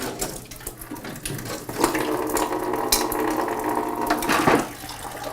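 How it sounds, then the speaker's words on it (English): Water drains steadily from household plumbing while a water meter is swapped out, a continuous hissing rush like a running tap, close and fairly loud throughout. "there is a fair amount of water that does have to be drained out of the system to replace the meter."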